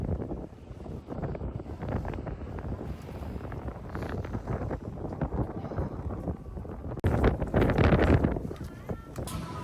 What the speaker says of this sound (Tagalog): biglang lumakas yung snow